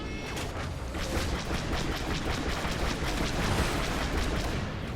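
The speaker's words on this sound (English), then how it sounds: "We got some enemy fire." Starfighter blaster fire in a Star Wars Battlefront 2 space battle, delivered as a loud, continuous stream of rapid, evenly spaced shots with no voices.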